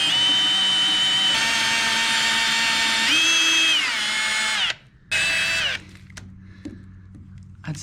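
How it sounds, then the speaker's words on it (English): A power drill boring a hole through the garboard of a 1982 Cobalt boat, a loud whining motor that rises and dips in pitch as it bites, then cuts off briefly and restarts more quietly before stopping. "Gotta drill this hole"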